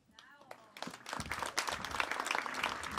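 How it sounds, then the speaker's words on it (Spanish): Audience applause at a quinceañera celebration, clapping swelling up after a brief spoken moment and continuing at moderate loudness with scattered individual claps. "Fuerte las palmas."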